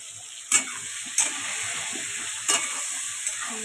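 Potatoes with salt and turmeric fry in a pan with a steady, close sizzle, broken by four sharp scrapes or stirs of the spoon.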